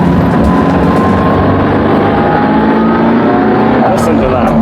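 A 1992 Ferrari F40 engine roars steadily throughout, a loud, dense rumble with a brief rise near the end.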